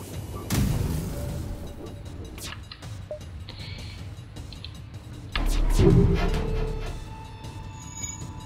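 Two heavy booms from a flak weapon firing in the spaceship game FTL, separated by a few seconds, with electronic beeps and hum in between.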